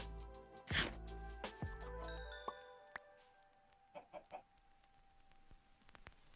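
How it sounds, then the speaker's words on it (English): Minecraft chickens clucking in short bursts, one loud near cluck early, then a few fainter clucks spaced apart, alongside game chimes and tones. "Oh, look, a small chicken."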